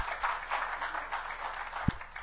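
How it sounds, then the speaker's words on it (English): Faint, scattered applause from an audience at an internet freedom conference in Lagos, Nigeria, fairly distant and uneven, with one sharp thump near the end. "Can we have another round of applause"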